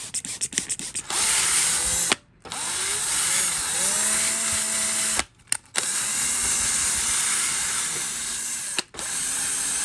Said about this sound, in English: drill brush attachment.